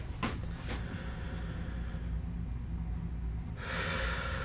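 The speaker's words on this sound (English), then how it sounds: "Take a deep breath in." A patient draws a deep breath in during a chiropractic exam, heard as a couple of short sharp gasps near the start followed by a longer, louder inhalation at the end, close to the listener with no talking.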